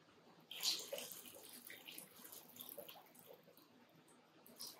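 Room-temperature water runs and splashes into a container for alum mordanting of wool roving, a faint, quiet trickle with a brief louder gush near the start and softer pours after.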